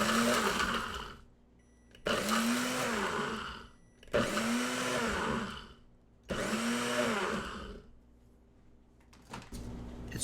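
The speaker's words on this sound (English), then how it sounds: "We'll go ahead and get this ground up one more time." Kitchen blender grinding dried beef into a fine meat flour, running in four loud bursts of a few seconds each with short pauses between them, the motor pitch dipping and recovering in each burst.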